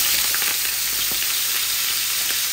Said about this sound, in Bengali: এই আমি ডিমগুলা ভেজে নিচ্ছি, হলুদ লবণ দিয়ে এটাকে এইভাবে রেখে দিচ্ছি।